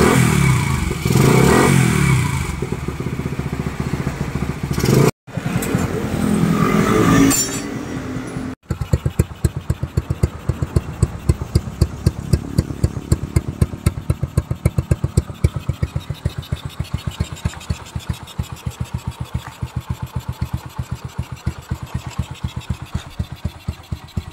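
An engine fitted with a new exhaust pipe roars loudly, briefly cuts out, then settles into a rapid, throbbing exhaust idle with a steady, punchy pulse.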